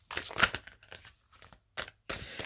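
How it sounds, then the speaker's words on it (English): Tarot cards are shuffled in hand, a close, faint run of papery crinkles and riffling bursts separated by short pauses. "Spirit's really telling me to shuffle these up."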